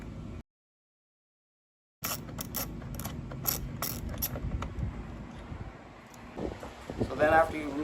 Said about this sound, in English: take your 5mm Allen key and go ahead and undo the seat here